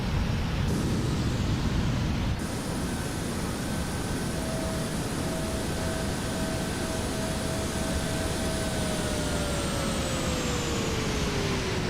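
A Boeing 777-300ER's jet engines in the Prepar3D flight simulator, a steady, broad roar with high whining tones that slowly shift pitch, heard alone at moderate volume.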